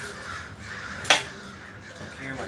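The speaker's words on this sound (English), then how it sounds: "I hear my crows." A crow gives a single short caw partway through, fairly faint over a steady outdoor hum.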